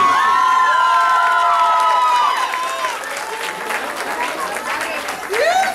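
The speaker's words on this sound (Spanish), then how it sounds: "Fuerte, fuerte el aplauso," Loud applause and cheering from a crowd at a quinceañera party, sustained clapping that swells and dips slightly, with whistles and shouts mixed in.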